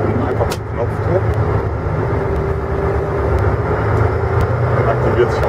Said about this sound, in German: So, Pumpenmotor, du startest ihn einfach mit Knopfdruck.